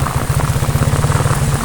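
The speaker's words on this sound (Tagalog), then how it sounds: "Lakas ang ulan." Heavy rain pours steadily on a drive to a parking lot, a dense, even wash of hiss with rapid close patter and drumming, constant and loud from start to finish with no voices.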